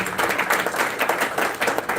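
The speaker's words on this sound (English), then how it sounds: "A round of applause again." Audience at a book launch event giving a round of applause, a lively burst of uneven clapping with rising and falling swells, fairly close and loud.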